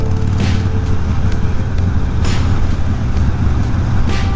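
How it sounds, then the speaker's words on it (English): School buses passing on a road, heard as a loud continuous engine rumble and traffic roar with repeated short hissing air-brake bursts, no speech. "Let these buses get these kiddos to school."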